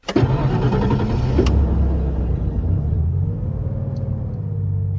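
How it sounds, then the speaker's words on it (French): A car engine cranks and catches with a loud start in the parking area of an apartment building in Bordeaux, then settles into a steady low idling rumble as the car pulls away. "La voiture quitte le parking de l'immeuble où vit Léon avec ses parents."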